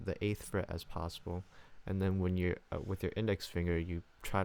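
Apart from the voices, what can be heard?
None of the usual background noises is heard.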